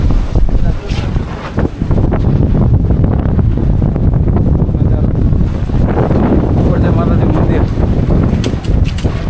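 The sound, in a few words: strong wind blowing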